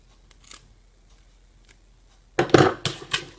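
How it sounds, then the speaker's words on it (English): Rhinestones are popped out of a ScanNCut template, giving faint scattered clicks first and then a sudden cluster of loud, crisp snapping and crackling near the end. "So I'll just pop those through to loosen them."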